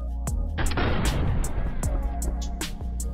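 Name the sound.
gunfire sound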